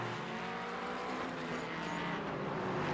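Sports cars, including Porsches, BMWs and a GT4 car, race at Belle Isle in a racing video game, their engines a faint, steady, distant drone with no distinct pass-bys.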